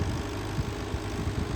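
New Holland 850 tractor engine puddling a flooded rice field, a steady low idling drone with faint rhythmic knocks, continuous and close without speech.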